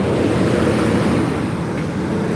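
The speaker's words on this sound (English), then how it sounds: "loud truck going by" A steady, loud rumble of a large truck passing nearby, with broad road noise that stays strong throughout.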